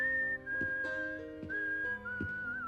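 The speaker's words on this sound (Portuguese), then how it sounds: "Aquela criatura sai do carro dos policiais assobiando" A creature in a slasher film, stepping out of a police car, whistles a tune in clear, sustained high notes broken by short pauses, loud and close, with low background score tones and no talking.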